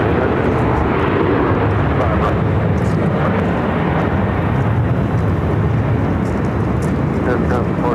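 A heavy transport jet takes off from runway 25 right at Phoenix airport, its loud, continuous broadband engine roar filling the whole stretch without pause.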